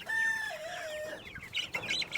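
Chickens cluck and squawk close by, a bird calling in drawn-out tones at first, then short, scattered clucks and chirps from several fowl.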